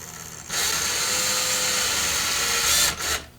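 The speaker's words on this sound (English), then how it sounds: "We'll get that chucked up in the drill." Cordless electric drill runs in a steady whir for about two and a half seconds, making small starter dents for screw holes while fitting an air gun stock accessory. It is close and loud, with a brief pause and restart near the end.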